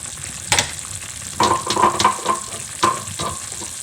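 Pork afritada with carrots being stirred in a pan, with a steady sizzle broken by several scraping, clattering stirs that come in short uneven bursts, close and fairly loud.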